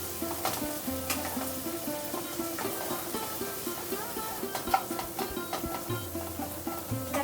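Spice masala cooks down in oil for a red amaranth, eggplant, potato and pea dish, giving a continuous close sizzle with soft stirring scrapes and a low hum underneath.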